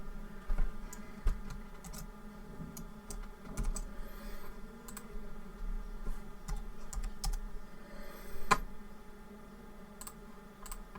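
Quiet, irregular keystrokes tap on a computer keyboard during AutoCAD drafting of a mosque floor plan, with scattered sharp clicks over a faint steady hum and no voices.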